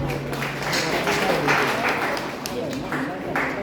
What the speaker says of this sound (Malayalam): നല്ലൊരു കയ്യടി കൊടുക്കാവോ?